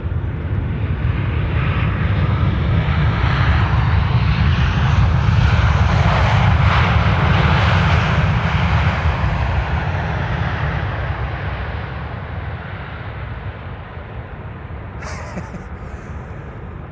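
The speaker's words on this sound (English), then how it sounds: "Transavia flight 6336 in the meantime landing here." A Transavia airliner landing at Amsterdam Schiphol Airport roars steadily and loudly for about twelve seconds, then its engine rumble eases off slightly as it rolls out, with no voices.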